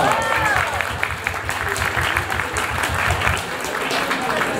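An audience applauds after a talk on biological collections and natural history museums, a continuous round of clapping with a hum of voices and cheering mixed underneath at a fairly loud, steady level.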